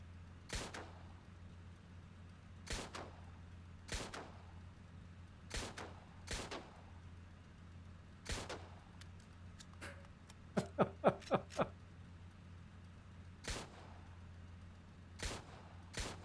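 Guns of a Yak-1 fighter plane firing in a flight sim, as sharp single shots spaced a second or two apart plus a quick rapid burst near the middle, over a steady low engine drone.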